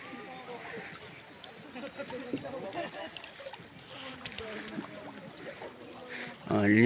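Boat motors hum at a distance over water and wind while people talk nearby.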